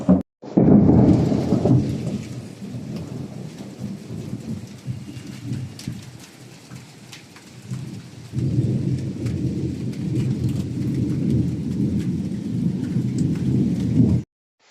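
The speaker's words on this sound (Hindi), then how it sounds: "बहुत तेज बारिश नहीं है, पर धीमे धीमे है" Steady light rain patters throughout, with low thunder rumbling near the start and rolling again in the second half.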